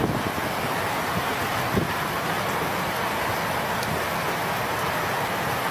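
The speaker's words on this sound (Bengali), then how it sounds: "অনেক বৃষ্টি হচ্ছে।" Heavy rain driven by strong wind makes a constant broadband roar close to the microphone, steady and unbroken from start to finish.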